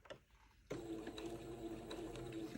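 A sewing machine starts up and runs a short, fast, steady stitching burst, close and clear, sewing a tiny seam along the edge of a bias fold on an antique baptismal gown under repair.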